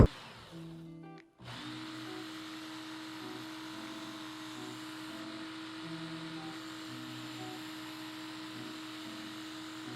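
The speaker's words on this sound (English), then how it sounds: "you can adjust the sharpener to be almost like a mini belt sander as well" A Work Sharp tool sharpener set up like a mini belt sander runs with a steady electric motor hum after a short break near the start, staying even and moderately loud throughout.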